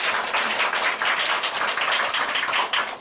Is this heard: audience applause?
yes